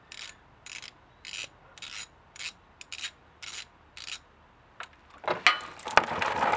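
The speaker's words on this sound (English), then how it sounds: "It's got a 17mm head, so we'll get up in there with our socket and just loosen that." Socket wrench ratcheting as a 17mm oil drain plug is loosened under a Can-Am Outlander 1000XT: eight evenly spaced short clicking strokes, close and fairly quiet, then scraping and rubbing as the plug works loose.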